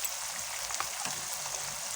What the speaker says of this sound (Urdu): لہسن، ادرک، سبز مرچیں اور دہی کو میں نے بھون لیا